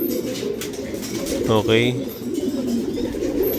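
Racing pigeons coo once in a short throaty burst over a steady outdoor rumble, while someone speaks briefly nearby.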